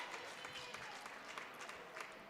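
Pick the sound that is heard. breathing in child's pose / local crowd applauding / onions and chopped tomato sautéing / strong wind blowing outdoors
local crowd applauding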